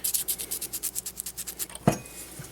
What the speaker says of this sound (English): we're going to take the sandpaper, and we're going to knock the edges off here.